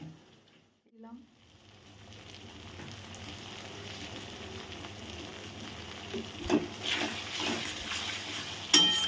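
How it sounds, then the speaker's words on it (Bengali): Ginger garlic paste sautéing in a pan for a spicy pabda fish curry, a steady soft sizzle with stirring and a few louder scrapes and clinks of the utensil against the pan. "আদা রসুনের পেস্টটা বেশ ভালো করে খানিক্ষণ কষানো হয়ে গেলে"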